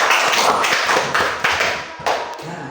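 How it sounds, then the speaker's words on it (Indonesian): A classroom breaking into applause, many hands clapping together in a loud, dense, continuous patter with a few rhythmic surges, close by. "kita beri tepuk tangan dulu"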